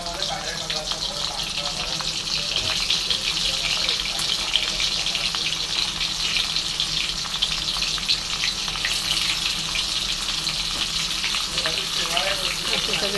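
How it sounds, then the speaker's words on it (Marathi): Bitter gourd pieces frying in hot oil in a kadai, a loud continuous crackling sizzle close up, with faint voices in the background. "कढाईमध्ये आपण कारले तळूया"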